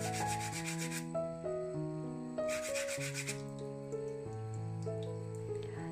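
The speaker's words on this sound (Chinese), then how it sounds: "接下去用砂纸打磨表面，直到露出彩色的碎片。" Terrazzo candle holder surface being sanded with sandpaper, rasping in short rhythmic bursts beneath steady, prominent background music.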